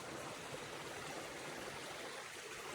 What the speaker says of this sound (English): This is the kind of thing you can see on these trails. Always nice little streams.